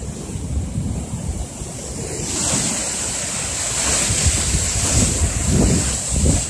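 Choppy lake waves slosh and splash steadily along a lakefront, mixed with heavy wind buffeting the microphone, loud and close throughout.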